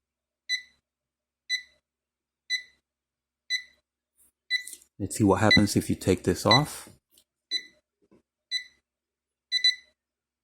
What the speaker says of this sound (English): So let's wait for that alarm and see how it sounds.